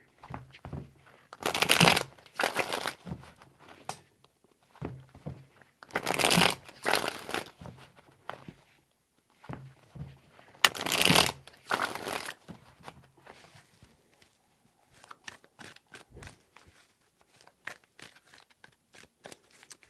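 A tarot deck is riffled and shuffled close up in three loud, crisp bursts of rapid flapping card noise, followed by quieter taps and card handling.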